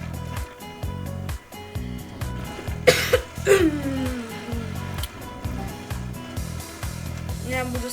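A couple of close, harsh coughs break out in the middle, set against a repeating rhythmic background beat.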